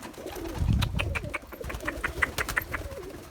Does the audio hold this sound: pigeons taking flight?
yes